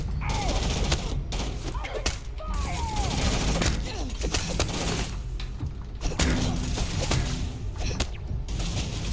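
Gunfire from turrets in the video game Starfield, dense and continuous through the whole stretch, with bursts, clatter and scattered impacts layered over game ambience, and a voice briefly speaking in places.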